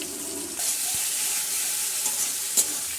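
Chicken marinated in soy sauce and vinegar frying with onions in a pan, a steady moderate sizzle with a few stirring scrapes and a small clack near the end.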